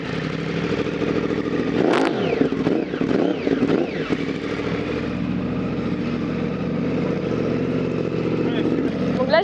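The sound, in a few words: Yamaha R1 motorcycle engine revving while stationary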